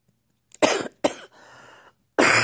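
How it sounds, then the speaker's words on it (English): Three separate coughs, close and loud, the first two quick and harsh, followed by a short pause and a third heavy cough. "I'm still coughing a little bit."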